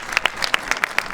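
Scattered clapping from a crowd at a pickleball gold medal match, men's doubles at the Austin Open, with short irregular claps close together.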